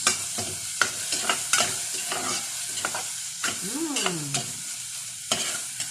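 Lemongrass sautés in a pot for chicken tinola: a close sizzle under frequent clattering spoon strokes and one long scraping sweep across the pot.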